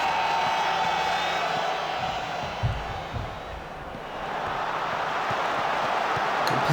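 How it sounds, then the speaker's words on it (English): Broad, steady crowd noise fills the stadium at a rainy Wigan football match in the Football Manager 2020 video game, a constant wash of murmur and faint cheering without clear peaks. "Big crowd for the match today."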